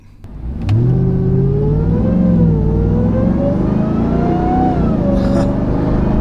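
A RAM TRX pickup's engine rises from a low rumble into a strong, steady revving drone as the truck accelerates, with pitch gliding upward and holding loud and close for several seconds.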